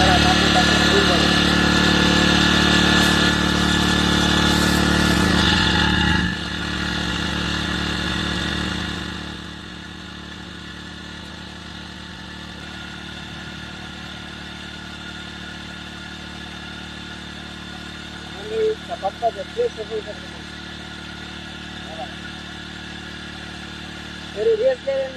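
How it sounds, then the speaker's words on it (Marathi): A four-stroke water pump runs steadily for washing a tractor, a loud continuous engine drone that drops in level after a few seconds and settles into a steady hum, with brief clatters near the end. "तर चला मंडळी, आपला पंप सुरू झाला"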